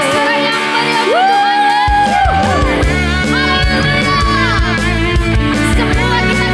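A church congregation cheering and shouting loudly in a worship service, whoops and cries layered over loud sustained music that fills the whole stretch.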